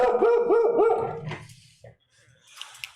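A dog barks repeatedly in a quick, rhythmic run of loud yelping barks up close, then fades to softer, scattered noises.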